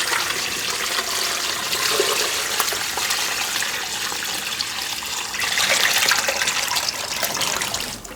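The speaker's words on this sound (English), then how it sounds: "Let's pour it over the brisket." A steady, full rush of brining liquid pouring continuously over a brisket for several seconds, close by, growing slightly heavier toward the end.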